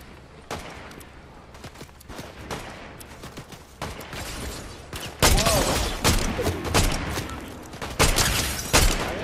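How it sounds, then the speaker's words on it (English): Video game gunfire in a multiplayer battle match, rapid bursts of shots and sharp cracks, some distant and others close and loud, with a heavy volley near the end. "I got shot from the right side."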